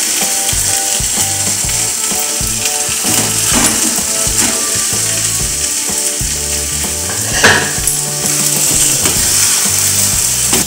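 Spinach kofta balls drop into sizzling masala in a pan for makhmali palang kofta, a hissing fry heard under loud, clattering background music.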